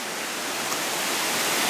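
Waterfall on New Zealand's South Island: a dense, unbroken roar of falling water, loud and close, with no other sounds standing out.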